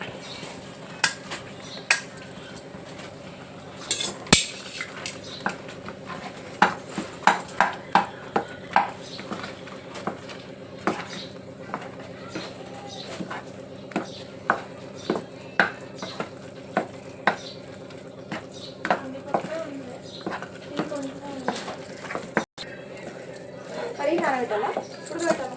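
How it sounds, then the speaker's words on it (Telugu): A ground chana dal mixture is stirred in a kadai, the spoon scraping and clinking against the pan in repeated sharp strokes over a low cooking hiss, while someone talks throughout. "ఇట్లా కడాయి కత్తుకోకుండా అయ్యేదాకా కలుపుతూ"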